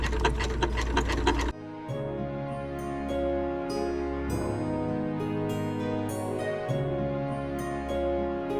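A home sewing machine stitches lettering onto fabric for a bucket hat, a steady close whirring hum with a fast mechanical rhythm that runs throughout after a brief louder opening burst, with no talk.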